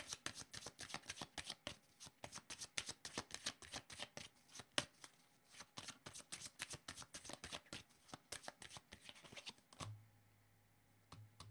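A deck of tarot cards is shuffled in quick bursts of crisp riffling and flicking, close and fairly quiet, ending with a brief low hum after the shuffling stops.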